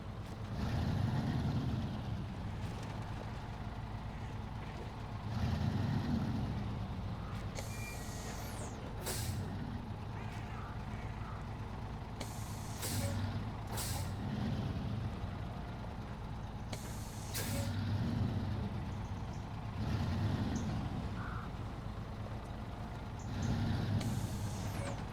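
A video game truck in Snowrunner backing up to a trailer, a low rumbling engine with periodic revving swells and a few sharp hisses of air brakes, heard alone without talk.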